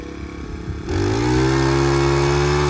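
A tractor engine revs up sharply and then holds a loud, steady high-rpm drone with strong harmonic tones, close by, with no talk over it.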